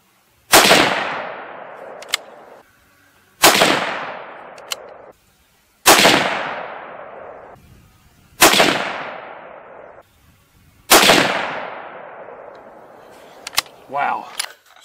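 Five loud .243 rifle shots firing Remington Core-Lokt tipped rounds, each a sharp crack with a long decaying rumble, spaced a few seconds apart outdoors, with faint clanking after the last.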